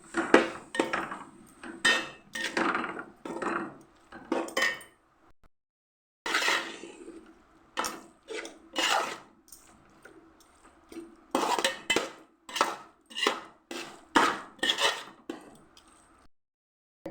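Chicken coated in chicken masala and garam masala being stirred in a pot for Thalassery chicken dum biryani, a spoon scraping and clanking against the metal in repeated rhythmic bursts with short pauses, close and clear, no talking.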